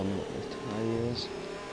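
Race cars drone while warming their tyres in a racing video game at Abu Dhabi, a brief blend of overlapping engine tones at moderate distance.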